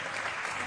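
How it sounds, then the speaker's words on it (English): Spanish players and supporters applaud an injured Italian player as he is stretchered off the pitch at a partially sighted football match at the IBSA World Games 2023, a brief burst of dense clapping. "the Spanish players all applaud him off"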